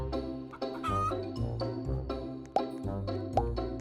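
Chickens cluck on a farm in a video game, in a run of short, clear calls spaced unevenly over a low background hum.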